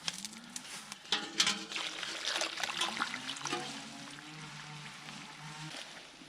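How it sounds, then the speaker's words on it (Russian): Water poured into a container of ash and unburnt charcoal from burnt firewood, a trickling, splashing flow lasting several seconds, fairly close, with faint background noise and no talk. "Итак, добавлю еще немножко воды."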